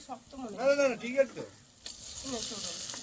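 Mustard paste added to a pan of gently cooked spices for a Bengali sarputi fish dish sets off a faint sizzle that swells into a steady crackling hiss after a short stretch of talking.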